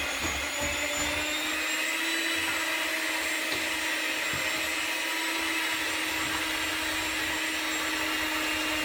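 Steady electric mixer whirring close up as batter is mixed, a continuous even drone with no pauses and no talking.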